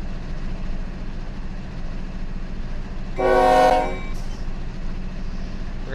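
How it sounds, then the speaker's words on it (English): A locomotive horn sounds one steady toot of about a second over a constant rumbling engine drone at a refueling and servicing area for locomotives. "We're going to be refueling some locomotives here."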